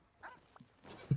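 Dogs in the video game Genshin Impact give a few faint, brief yips and a short bark, quiet and scattered over a second.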